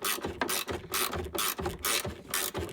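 A ratchet tightening a battery clamp bolt inside a car's battery tray, giving a close, crisp series of rapid clicking strokes in a steady back-and-forth rhythm.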